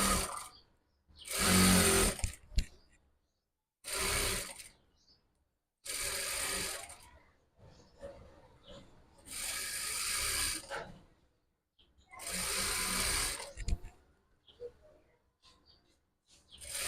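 A sewing machine runs a straight stitch along a hijab hem in six separate bursts, each a few seconds of steady close whirring, with brief silences between them.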